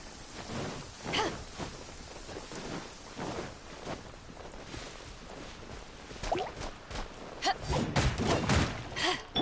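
Rain falls in Genshin Impact amid combat, a steady hiss broken by irregular thuds and impacts that grow denser and louder toward the end.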